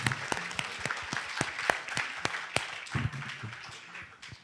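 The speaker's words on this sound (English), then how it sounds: "let's please give a round of applause for the panelists." A conference audience applauds a panel discussion: steady, moderately distant clapping from a small crowd of many hands, continuing evenly throughout with no talk over it.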